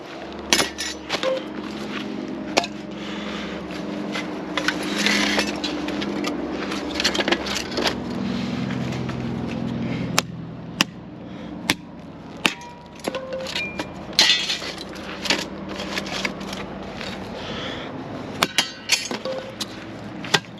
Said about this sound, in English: Swing a hammer much, Captain Aaron?